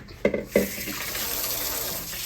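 Water splashes and pours steadily out of a container into a kitchen sink after a couple of short clunks, the flow continuing close by for a couple of seconds.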